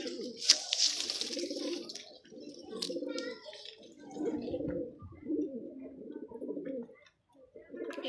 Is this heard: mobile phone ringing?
no